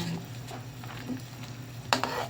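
Milkfish (bangus) with black beans gets stirred in a pan, a low sizzle under a few quiet scrapes, ending with one sharper clack of utensil against metal.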